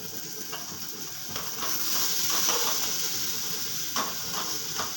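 Grated mankochu (giant taro) frying in oil with chilli, a steady close sizzle with occasional stirring scrapes, the hiss swelling slightly midway as the taro hits the pan.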